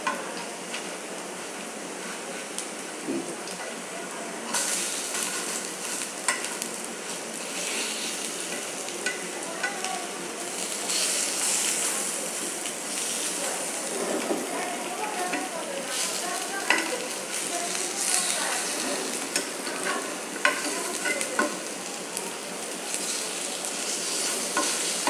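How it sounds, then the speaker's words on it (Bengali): Chopped pointed gourd (potol) sizzles and crackles as it fries in a pan, with spatula scrapes and stirring heard now and then. The frying is steady and continuous, near and moderately loud, with no talk. "আমি এভাবে ভেজে সবগুলা তুলে নেব।"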